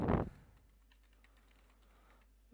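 Soft computer keyboard typing as a note is entered: a loud thump at the start, then a string of faint, quick key taps that continue quietly in the background.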